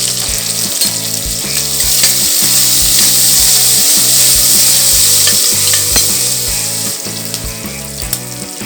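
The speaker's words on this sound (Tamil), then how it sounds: "இப்போ வந்து வெங்காயத்தை போட்டுருவோம் வெங்காயமும் நல்லா கொஞ்சம் ரொம்ப வதங்கணும்னு அவசியம் கிடையாது" Onions frying in a pan for a homestyle mutton bone soup, a steady bright sizzle running throughout, largely buried under loud rhythmic background music.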